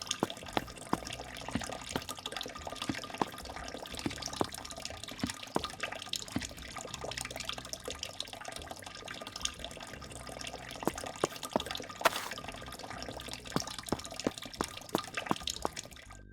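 Wine from a barrel in The Will of Arthur Flabbington is poured around, a long continuous trickle and splatter with scattered drips and small splashes, fairly quiet and steady throughout.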